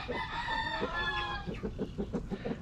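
Chickens cluck in short repeated bursts close by, with a rooster-like drawn-out call at the start.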